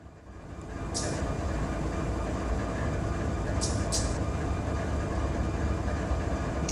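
Train rolling in the Run 8 Train Simulator game on Southern California track, a steady heavy rumble with continuous wheel and rail noise, broken by a few short bright hiss bursts.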